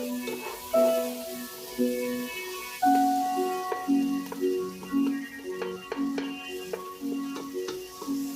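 Tomatoes and spices sizzling in a pan for egg khichuri, stirred with soft repeated scrapes and taps, while gentle musical tones play steadily in the background.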